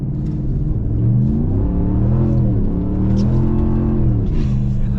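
A 2022 Ram 1500 Rebel GT's Hemi V8 revs hard while held on the brake, its deep engine note rising and falling in several loud, close surges over a steady rumble.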